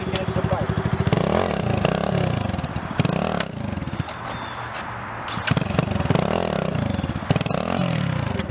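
A dirt bike engine runs close by, idling with a rough chug and rising in repeated throttle blips and revs, with clattering and scraping mixed in and voices faintly present.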